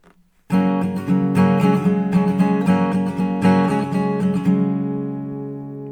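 Acoustic guitar strums the Drive Safe chord progression in tempo, a steady down-down-up pattern of bright, full chords ringing out close and alone, the last chord left to sustain and fade.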